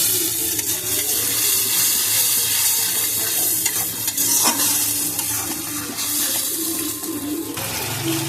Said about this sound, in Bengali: মশলাটা ভালো করে ভেজে নিয়েছি